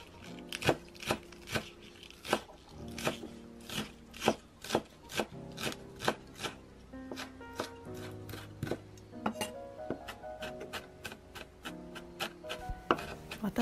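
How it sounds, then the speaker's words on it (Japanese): A knife finely minces naga negi green onion on a cutting board for vegan mapo tofu, giving a steady run of crisp, close chopping taps with brief pauses between bursts, with no voices. "では頑張って長ネギをみじん切りにしてください。"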